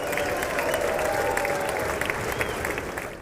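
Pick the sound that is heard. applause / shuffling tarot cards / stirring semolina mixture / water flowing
applause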